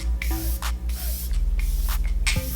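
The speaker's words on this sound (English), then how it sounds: "So again, with the Recipe Glow Mist." Glow Recipe face mist sprayed in a handful of quick, soft hissing puffs close by, each a short burst of fine spray separated by brief pauses.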